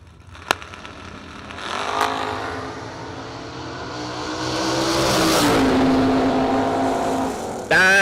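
Drag racing cars, a Camaro lined up against Nick Wellman's car, launch and roar down the strip, engine noise building and holding loud with a sharp burst near the end, heard from the track side.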